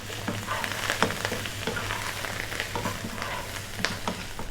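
Spicy Indian-style fried potatoes with a handful of cilantro are stirred in a hot pan, giving a steady close sizzle broken by irregular scraping and clicking strokes of the spoon, with no voices.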